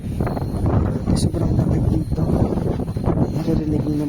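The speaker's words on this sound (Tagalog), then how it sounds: "Naririnig niyo naman ang hangin." Strong cold wind on a mountain in Mansalay, a continuous low roaring rush buffeting the microphone, loud and close with gusts rising and falling throughout, and no voices.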